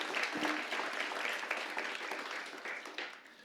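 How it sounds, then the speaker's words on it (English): Sustained applause from an audience at a school Grade 6 celebratory ceremony for Specialist Award winners, a dense steady patter of many hands clapping together that tapers slightly toward the end. "Let's give a big round of applause to all our winners of Specialist Awards."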